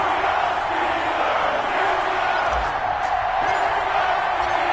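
A steady roar from an NFL stadium crowd in a PS4 football game before a Cincinnati Bengals versus Pittsburgh Steelers matchup fills the whole stretch, dense and loud with no break.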